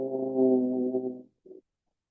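A single voice chants Om: a long, steady, low humming vowel held for over a second, then a brief softer hum, close and alone in a quiet space.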